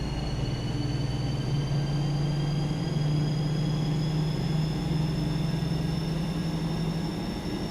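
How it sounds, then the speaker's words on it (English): A BR218 diesel locomotive in a train simulator game runs with a low, steady engine drone and a faint high whine, holding a constant level with no talking. "I like the engine sounds on this."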